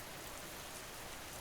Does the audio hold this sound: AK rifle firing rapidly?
no